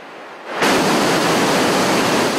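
A river running high after heavy rain near Jim Thorpe roars in a steady, loud broadband rush that swells in abruptly after a quieter first half-second, then holds constant without voices.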